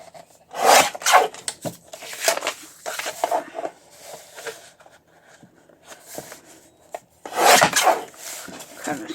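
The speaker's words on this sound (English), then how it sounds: "I'm going to take my trimmer and do that right quick." A trimmer scrapes and rubs along wood ends in short, irregular bursts, with louder strokes at the start and near the end, close and without talk.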